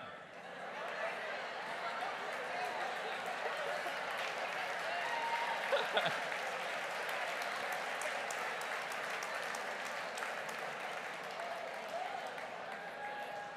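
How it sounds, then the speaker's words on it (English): An audience at a leadership talk applauds steadily, a dense wash of many hands clapping at moderate distance, holding fairly even for the whole stretch. "I love that you're clapping."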